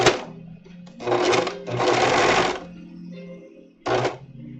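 A sewing machine stitches in several short bursts of rapid mechanical whirring, separated by pauses, loud and close while a suit is being sewn.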